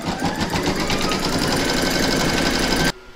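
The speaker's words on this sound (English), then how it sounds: "Pop your hoop back into your machine and stitch round number two to secure it." A computerized embroidery machine stitches a snowglobe design in the hoop with a fast, even, rattling needle beat, close and loud, running steadily before stopping abruptly near the end.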